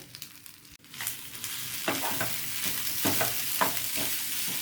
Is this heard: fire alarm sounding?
no